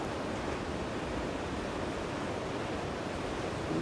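Ocean surf off the Miyazaki coast, with waves breaking into a continuous, dense roar that stays loud and steady with no voices.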